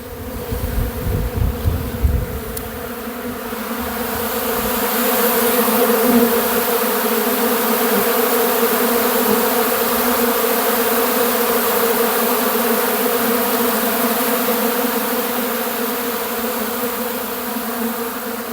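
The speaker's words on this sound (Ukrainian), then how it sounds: "щоб ви почули цей звук бджіл, які просто шалено носять пилок зараз" Honeybees swarm busily at an apiary, carrying pollen, a dense continuous buzzing drone that stays loud and steady throughout, with a brief rustle at the start.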